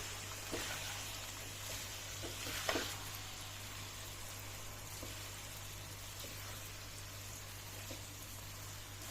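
Pepper chicken sautéing in a pan, a continuous close sizzle with occasional stirring scrapes and one sharper clatter, no voices.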